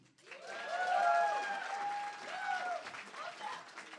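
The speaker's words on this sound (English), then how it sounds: "Clap." An audience at a drag comedy show breaks into applause that swells quickly and then tapers off, with whoops and voices rising through the clapping.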